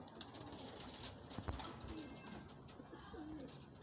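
Pigeons coo softly in a low, throaty murmur against a busy outdoor background, with a few brief chirps mixed in.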